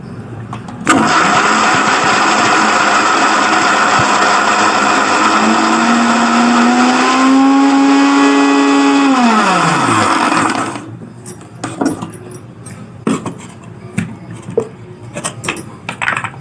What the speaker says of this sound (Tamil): மிக்ஸி ஜாரில் நல்லா அரைச்சிக்கலாம்.